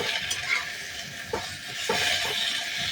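Ash gourd slices fry in a pan with very little oil as a spoon stirs them, a steady close sizzle broken by a few sharp scraping strokes, with no voices.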